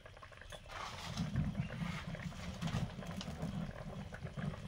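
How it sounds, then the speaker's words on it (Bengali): Fish curry broth boils in a pot with a low, bubbling rumble and a soft liquid churn, steady and quiet throughout, with no voices. "ঝোল ফুটে গেছে।"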